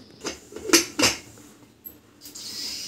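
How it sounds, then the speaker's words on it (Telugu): A pressure cooker lid is set onto a pot of country chicken curry, giving a few sharp metallic clanks and clatters close by, then a light scrape and quiet. "కుక్కర్ మూత పెట్టేసుకొని మీడియం ఫ్లేమ్ మీద ఒక 6 విజిల్స్ రానిద్దాం"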